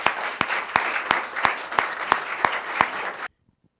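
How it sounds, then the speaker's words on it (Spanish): An audience at a master's program launch event applauds, with rhythmic, fairly loud clapping that has a collective beat before cutting off abruptly into silence near the end. "Vamos a agradecerte con un aplauso."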